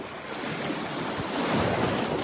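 Ocean waves break and wash up the shore at Delnor-Wiggins beach, a continuous broad roar of surf with wind noise, swelling slightly louder toward the end, with no voices.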